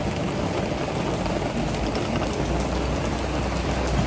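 Continuous rain in Valencia falls steadily, a broad constant hiss of drops with no talking.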